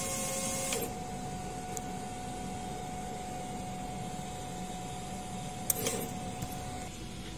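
A DTF printer runs a nozzle check with a quiet steady electric hum and a constant whine, broken by a few short clicks and carriage shuffles near the start and toward the end.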